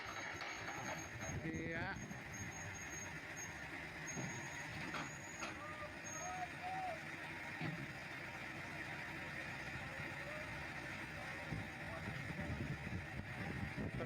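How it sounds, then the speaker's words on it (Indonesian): A WPZ rail installation machine hauls a steel rail for high-speed bullet-train track, giving a steady mechanical rumble with occasional beeps and hisses while people talk nearby. "ditarik lagi oleh mesin WPZ."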